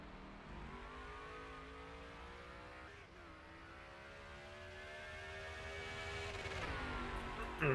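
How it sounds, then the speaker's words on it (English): A race car engine at Circuit of the Americas through turn 11, a strained high-pitched whine that climbs, briefly drops, climbs again and grows louder before a sharp shift near the end. "Hitting that rev limiter pretty hard there"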